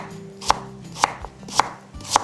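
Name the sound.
knife chopping a 200 g piece of radish into three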